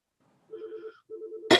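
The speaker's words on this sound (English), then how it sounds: "I don't know why my phone's ringing." A mobile phone rings during a library board meeting: two sustained electronic tones with a short gap between them, clear against a quiet room, cut off by a sudden burst of noise.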